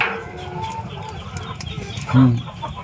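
Tiger chickens cluck on a poultry farm alongside ducks, pigeons and goats, with a short, louder burst of clucking near the end over a steady background of farmyard noise.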